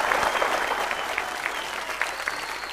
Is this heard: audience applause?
yes